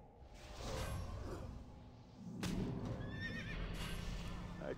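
A horse neighs in a video game amid a busy, whooshing soundscape, with a second whinny later and a low rumble of game sounds underneath.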